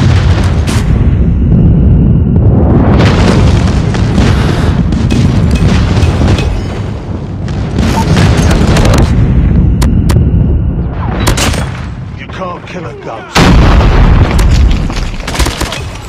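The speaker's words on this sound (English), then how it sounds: "Friendly airstrike incoming." Airstrike explosions in the mobile shooter game Call of Duty Mobile: a loud, continuous barrage of booming blasts and rumbling detonations rolling on in waves, with a sharp fresh burst near the end.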